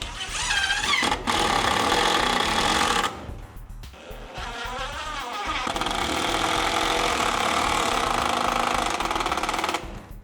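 A power drill drives screws into a wooden board in a garage, with loud whining motor bursts separated by brief pauses and varying pitch as each screw bites in.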